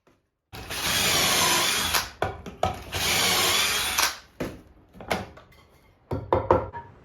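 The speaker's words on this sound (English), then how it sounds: "to drill pocket holes on the inside of all the rails and stiles" A power drill bores pocket holes through walnut rails and stiles set in a pocket hole jig, giving two sustained whirring runs of about two seconds each, followed by short clattering bursts and handling knocks, close and alone.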